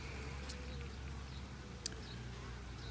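Honeybees buzz around a hive frame while a nuc is assembled, a steady low hum filling the background with a brief sharper sound near the end.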